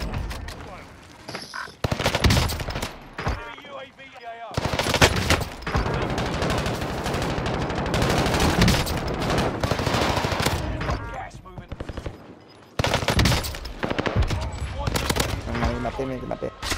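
Gunfire in the video game Call of Duty: Warzone: long, loud bursts of rapid automatic fire with brief pauses between volleys, close and harsh, and a voice speaking over parts of it.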